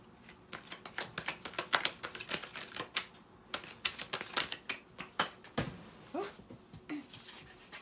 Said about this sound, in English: Cards go flying.